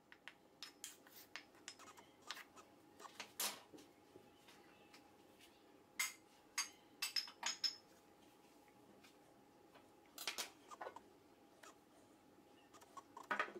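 Chopped ginger and garlic being stirred in a container produce faint, sparse clinks and scrapes that come in short irregular bursts against a quiet background.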